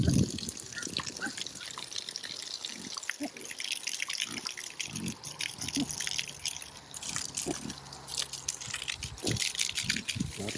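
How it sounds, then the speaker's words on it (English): Water splashing and trickling into a pig wallow from a hose outdoors, a steady gushing and dripping stream with irregular splashes, fairly faint, with occasional pig grunts and snuffles. "Here, I'll put some water in y'all's wallow."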